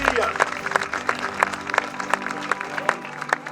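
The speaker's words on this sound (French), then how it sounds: "Vous pouvez l'applaudir" Outdoor crowd applauding at a cyclo-cross race podium, a moderate patter of clapping with regular distinct sharp claps standing out over a low hum and some voices.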